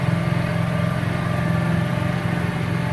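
A small engine fitted with a Chinese carburetor runs steadily after adjustment, a loud, even idle with a continuous low rumble and no talking.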